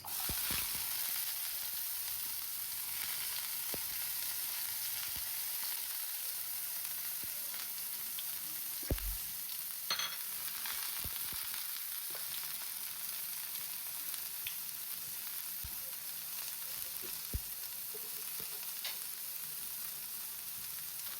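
Onions and green chilies frying in a pan hiss in a soft, continuous sizzle for a long stretch, with scattered light clicks and occasional spatula taps as they are turned, no talking.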